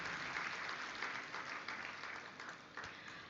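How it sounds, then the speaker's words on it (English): Steady applause from a crowd at an event, many hands clapping at a constant rate with no pauses, moderately loud throughout. "Can we once again put a thunderous round of applause to the participants?"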